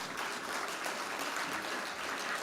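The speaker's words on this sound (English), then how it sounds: "give yourselves a round of applause for sticking with" An audience at a diaspora homecoming forum applauds in a steady, dense wash of clapping that holds evenly from start to finish.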